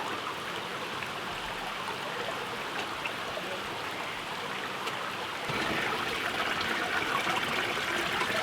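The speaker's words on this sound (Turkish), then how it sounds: "Bakın suyun aktığı yerleri" Water runs between rocks in a mountain stream, a steady close rushing babble that grows louder and fuller partway through, with no voices.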